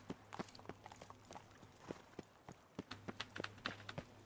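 Horse hooves clip-clop in a quick, uneven rhythm in The Witcher 3, fairly close over a low hum, with a short pause midway before the hoofbeats resume.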